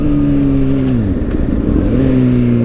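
A Honda CBR600RR idles with a steady engine tone, dips briefly as the throttle is blipped, then settles back to a steady idle. The bike is close and loud.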